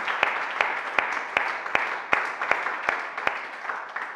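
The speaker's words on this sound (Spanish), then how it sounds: "den un aplauso a él fuerte porque ahí lo hace" A church congregation claps in a steady, even beat of about ten synchronized claps over a soft hum of the room.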